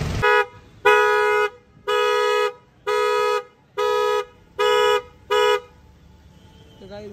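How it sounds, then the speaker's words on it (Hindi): Car horn honking seven times in an even rhythm of roughly half-second blasts, loud and close, with quiet background afterward. "तो गाइस हॉर्न की आवाज़ कैसी लग रही है बताना बिल्कुल।"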